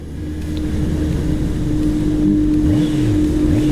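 A Honda CBR 650R four-cylinder sport motorcycle engine roars up close, its pitch rising and falling through revs and gear changes, loud and steady with no speech.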